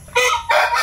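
A native chicken crowing nearby in a backyard farm, two loud, clear crowing bursts in quick succession.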